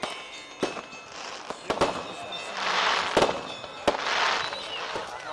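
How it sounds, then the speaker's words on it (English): Small fireworks display at an outdoor gathering, with several sharp pops and cracks scattered over a few seconds amid crowd noise and hissing bursts, at moderate distance. "and there's a small fireworks display."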